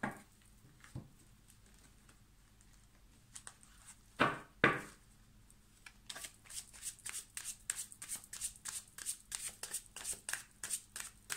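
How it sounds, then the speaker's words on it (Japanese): Oracle cards being shuffled and dealt by hand at a fortune-reading table: a few soft slaps, then a long run of quick, crisp riffling flicks in steady rhythm, close and clear with no talk. "あのオラクルカードとかをバーッとちょっと出していきたいと思います"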